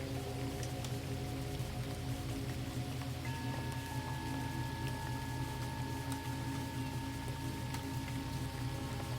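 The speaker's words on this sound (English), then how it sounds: "The roof catches the rain." Steady rain falls on a roof, a soft continuous patter with no breaks, faint and even, with no voices.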